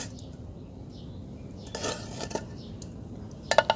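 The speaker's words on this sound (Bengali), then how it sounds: "এবার আমি টমেটোগুলো দিয়ে দিচ্ছি।" Tomatoes go into a bowl of mixture for Bengali tomato bharta, with soft clinks of a utensil against dishware and a few sharper knocks near the end, quiet and close with no talking.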